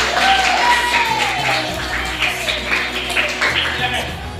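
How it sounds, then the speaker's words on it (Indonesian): A classroom group of students claps after a teacher's prompt, a scattered patter of hands that rises and falls over several seconds with talking underneath. "mari kita beri tepuk tangan"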